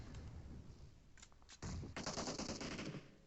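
Rapid gunfire from a battle royale match on the Miramar map, with sparse shots early and then a loud, dense automatic burst running to the end.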